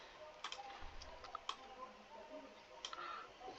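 Soft clicks of a computer keyboard come as text goes into an Excel text box, with a few scattered keystrokes over a faint background hum and no clear talk.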